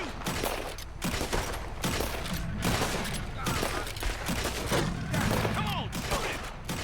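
Sustained gunfire from the video game Red Dead Redemption 2, with dense volleys of shots rattling continuously throughout while voices shout over the battle.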